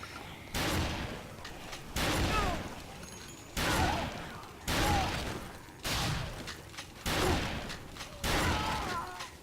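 Gun bursts in the video game Dead Rising 4, with seven or eight separate loud volleys spaced about a second apart and quieter gaps between them, mixed with game noise.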